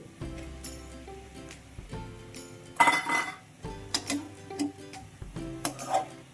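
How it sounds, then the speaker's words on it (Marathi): Grated cabbage tossed into a pan of egg bhurji: metal utensil clinks and scrapes against the pan, with a sharper burst of clattering midway, over a steady tonal background. "आता याच्यामध्ये हा किसलेला कोबी टाकतोय"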